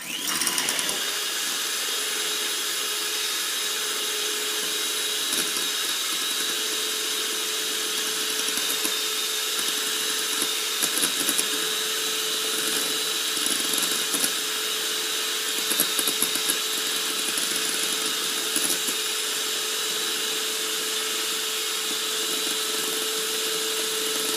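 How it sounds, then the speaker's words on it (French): An electric hand mixer whips four egg whites into stiff peaks for a coconut flan, giving a steady, continuous motor whine with a constant pitch that runs unbroken from start to end, with no voices. "Nous prenons notre batteur et nous montons nos œufs en neige."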